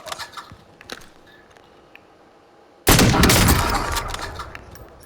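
Gunfire from a pistol in a shooter video game, a loud burst of rapid shots erupting suddenly after a stretch of quiet ambience and then trailing off over a couple of seconds.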